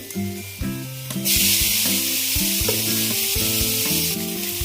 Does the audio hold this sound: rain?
no